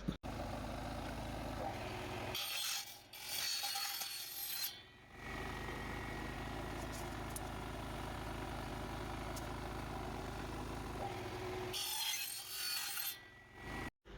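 Two bursts of a mitre saw biting through a wooden window frame profile, separated by a long steady motor whine, with a loud low hum running throughout.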